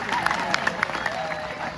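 Schoolchildren at a school event clap together in a steady patter of claps that stays moderately loud throughout, with crowd murmur underneath.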